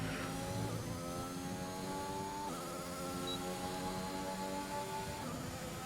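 A racing car engine in a video game screams steadily on a lap of the Imola track, its pitch climbing and dropping through gear shifts at a constant, moderate loudness with no talking.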